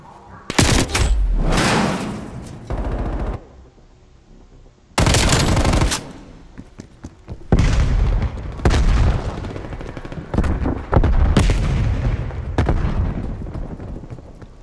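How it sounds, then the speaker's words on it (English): Rapid automatic gunfire bursts and heavy blasts, including a flashbang detonation, in multiplayer Black Ops Cold War combat, loud and close with brief pauses between volleys. "Flashbang going out."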